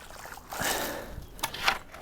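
Water sloshing and splashing as it is scooped out of a pipe hole in a greenhouse, close and uneven, with wet trickling and a few sharper splashes.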